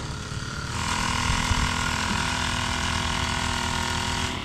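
Two farm sprayer engines run steadily outdoors while crops are sprayed, a close, continuous rattling motor drone with an even, unbroken level throughout.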